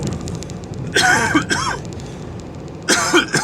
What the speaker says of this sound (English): not sure where that cough came from